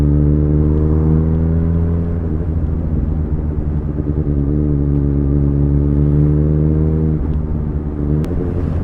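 A Suzuki GSR750 fitted with a Yoshimura R11 exhaust riding at night, its engine droning loud and close with steady harmonic pitch, dipping and rising through gear changes, no talking.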